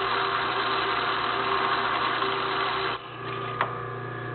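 A drill bit grinds through a grade 8 bolt with a steady, loud motor-like whine that shifts lower near the end, followed by a brief sharp tick.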